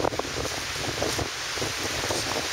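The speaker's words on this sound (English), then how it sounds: "You can kind of hear the water, the wind." Steady wind blowing outdoors by a lake with broadband rushing noise and occasional gusts, along with a soft lapping of water beneath it; nobody speaks.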